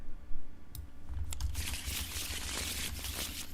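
A card from an Arkham Horror 2nd Edition board game is shuffled back into the deck: a few soft taps, then a rapid papery riffling and crinkling that runs on to the end, close and moderately loud.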